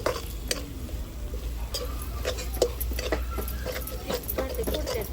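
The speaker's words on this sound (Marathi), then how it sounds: "चांगली मसाले आता भाजून घेऊया आपण" Ground spices and red chilli powder roasting in a pan over a village wood-fired stove, stirred with scraping, clicking strokes above a steady low sizzle and background hum, close by with no speech.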